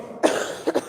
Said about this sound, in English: Try not to cough on anybody.